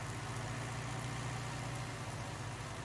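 Tractor engine idling in Farming Simulator 19, heard as a steady low rumble with a thrumming pulse, continuous and moderately loud on wet ground, with no talk.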